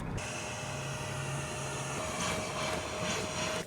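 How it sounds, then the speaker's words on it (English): A 1996 VW T4 campervan engine idles steadily after a full service, a constant low hum and whine heard alone, moderately quiet and unbroken. "Let's start the engine up."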